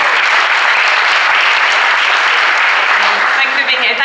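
Dense, sustained audience applause fills a hall at a Lenovo Yoga product launch event in London as the company's chief operating officer is welcomed, loud and even throughout with no break.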